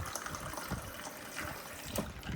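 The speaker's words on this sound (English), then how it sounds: "And don't be afraid if this starts spraying water all over you, because what we're trying to do is to purge the air out." Water sputters and gushes from the dispenser of an LG French door refrigerator while air is purged after an LT700P filter change, an uneven, spitting flow with small bursts, fairly close and quiet.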